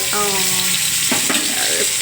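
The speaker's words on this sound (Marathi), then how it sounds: "याला तव्या तेलामध्ये फ्राय करायला टाकलेलं आहे" Halved bitter gourd sizzles loudly in oil on a flat pan, a steady close frying hiss with a few scraping stir sounds and a brief tonal clatter of utensils, with no talking.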